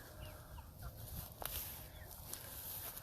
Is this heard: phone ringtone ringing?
no